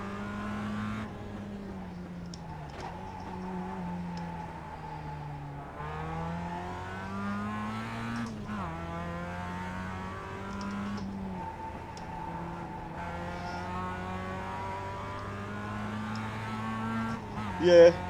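Race car engine in the iRacing video game, a steady droning note that rises and falls through repeated gear changes, with the pitch climbing under acceleration and a short loud burst at the end.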